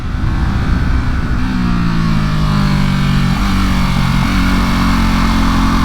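A 2023 Ducati SuperSport 950S motorcycle engine revving above 4000 rpm while riding, a loud, sustained drone whose pitch climbs and shifts through the clip.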